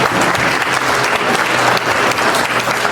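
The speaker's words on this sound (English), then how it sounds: "A round of applause again." A gala audience gives a loud, dense round of applause at the Ghanaian Professionals Network annual dinner, continuous clapping close by for about three seconds with some crowd noise mixed in.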